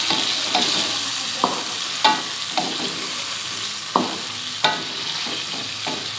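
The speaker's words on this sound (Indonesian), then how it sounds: "Tuangkan daging, terus kita aduk lagi." Beef being stirred in a frying pan for Acehnese white-style cooking, a steady close sizzle broken by irregular scraping knocks of the utensil against the pan, with no talking.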